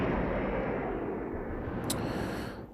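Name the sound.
explosion in video game RayStorm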